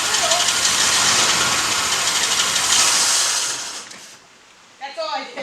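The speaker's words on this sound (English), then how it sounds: "That was just you hitting the gas. It shuts off." A car engine revving under throttle on the Godfather car with a carburetor needing a complete rebuild, a loud broadband roar for about four seconds before the engine dies away, then a brief bump of noise at the end.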